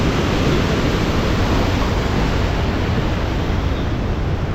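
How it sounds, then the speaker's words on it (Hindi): Rushing water pours through a large canal in Punjab, a loud, dense, unbroken roar that fills the whole stretch with no voices over it. "भाई साहब क्या ही आवाज़ आ रही थी पानी की।"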